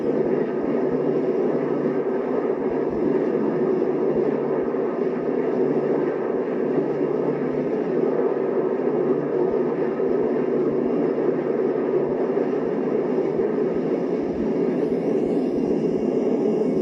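A 1960s-era plane flies steadily overhead, a broad continuous engine roar holding a constant level throughout with no voices.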